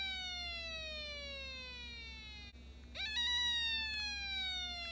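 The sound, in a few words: siren-like electronic tone fading out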